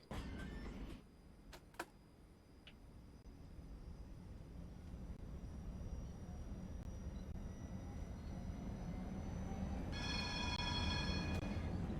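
A ULF low-floor tram pulls away from the Karlplatz stop in a tram simulator game, with a few sharp clicks and a door chime first, then a rising motor whine that grows steadily louder as the tram accelerates.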